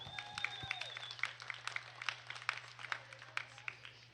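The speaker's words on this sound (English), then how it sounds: "Let's give these exhibitors a big round of applause." A crowd applauds sheep exhibitors at a breeding sheep show, with scattered, fairly faint claps heard from a distance over a steady low hum.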